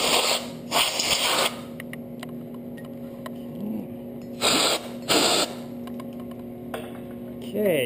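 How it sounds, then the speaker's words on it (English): Compressed air from a shop compressor blasts out brake caliper parts during a 14-bolt caliper rebuild. Several short, harsh hissing bursts stand out against a low background hum, with someone speaking between blasts. "I'm just going to go over the compressor here for a moment, and we're going to blow that out with some air"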